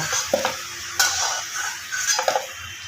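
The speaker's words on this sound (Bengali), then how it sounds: "আলুগুলো লাল করে ভাজা হয়ে গেছে কড়া থেকে তুলে নেব" Potato pieces fry in hot oil in a wok with a steady sizzle, broken by a few sharp scraping stirs of a spatula against the pan.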